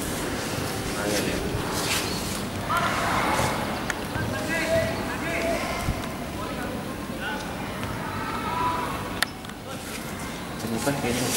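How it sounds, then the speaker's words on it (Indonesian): Wind buffets a microphone outdoors near water, a steady broadband rumble and rush with gusty swells throughout, while voices talk faintly underneath. "Ada angin."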